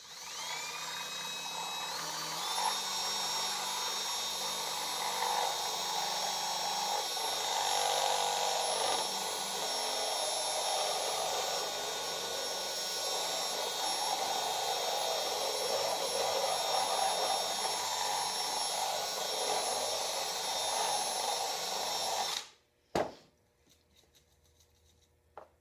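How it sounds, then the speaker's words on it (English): Power drill boring out a hole for a grill igniter on a homemade potato cannon, a steady high-pitched whine held for over twenty seconds, then cutting off abruptly, followed by brief clatter. "I need to drill it out a little bit more"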